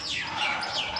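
Myna bird calls outdoors among other chattering birds, a run of bright, sweeping chirps and whistles repeating over steady background hiss for about a second, fairly close, with no speech.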